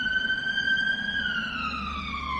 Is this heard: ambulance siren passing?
yes